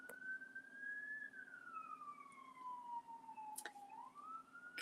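A single siren wails faintly in the distance, its pitch sliding slowly down and then rising again, heard alone over a quiet background.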